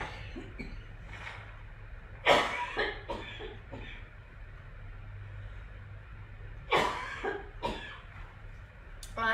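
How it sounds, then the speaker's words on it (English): A woman coughs in several close bursts, an early cluster of harsh coughs, then quieter ones, and another cluster later, set against a faint background hum. "I'm going to have to cough."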